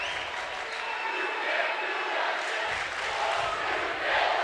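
Basketball crowd at a boys' varsity district final roars with cheering and applause in a gym, a dense, loud, sustained wash of voices that swells toward the end.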